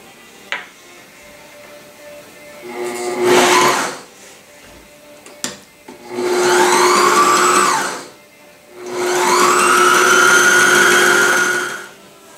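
A sewing machine stitches fabric while a cover is being made. There are three runs of steady, fast whirring and needle chatter, each several seconds long, with sharp clicks and quiet gaps between them.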